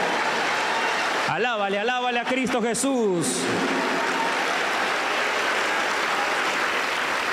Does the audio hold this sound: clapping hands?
yes